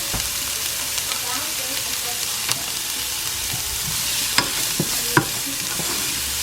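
Garlic sizzles steadily in a hot pan, a continuous frying hiss broken by a few sharp clicks and taps of a utensil against the pan.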